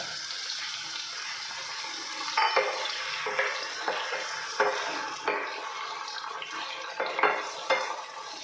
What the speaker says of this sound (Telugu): ఇప్పుడు మనం వేసుకున్న ఫ్రాన్స్ కూడా ఈ ఆయిల్లో బాగా ఫ్రై అవ్వాలి